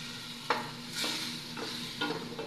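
Meat stirred and frying in a pan for dinner, a steady sizzle broken by several sharp scraping stirs at a near distance, with no talking.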